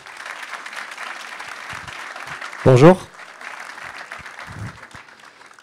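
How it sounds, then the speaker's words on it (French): Audience applause welcoming a speaker onstage at a tech company meetup in France, a steady crowd clapping throughout with a brief spoken greeting from the speaker partway through. "je vous demande un tonnerre d'applaudissements"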